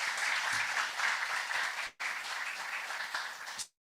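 Applause from an audience at a live games talk event in Dundee. Dense, steady clapping fills the room for nearly four seconds, with a brief dip midway, before cutting off abruptly.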